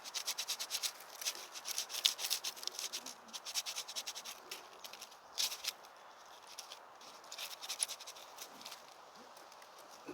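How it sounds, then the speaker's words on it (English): Material being scraped to make fine powder for fire lighting, a close, dry rasping scrape repeated in quick irregular strokes over ten seconds, with no one talking. "I'm going to scrape this a little bit just to create some powder"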